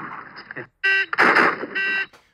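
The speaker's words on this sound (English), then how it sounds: "So there's one buzzer when he's supposed to start shooting." A shot-timer buzzer signals the start of a U.S. Marine's AR-15 reload and firing drill. It gives a loud, steady electronic buzz in a few close bursts, with a brief voice or background noise just before.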